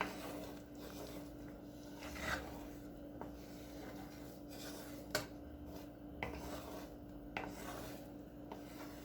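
A spoon scrapes and rubs through pork chop gravy with onion in a pan, a soft continuous rasping stir with occasional light clinks against the metal, quiet and close with no talking.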